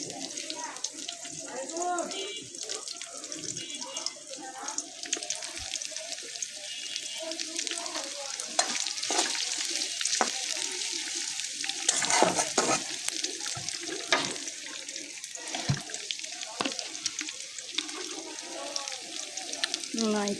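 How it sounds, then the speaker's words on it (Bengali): River poa fish is fried with tomato in a pan, with a steady crackling sizzle, stirring scrapes and some running water, while a person talks intermittently nearby. "টমেটো দিয়ে মাছটা ভুনা করবো।"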